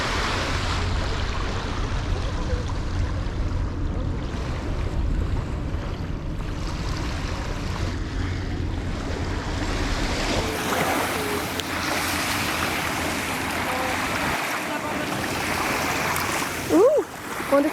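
Waves breaking and washing in steadily along a Lisbon waterfront, a continuous close surf wash stirred up by a boat passing far out, with wind noise on the microphone.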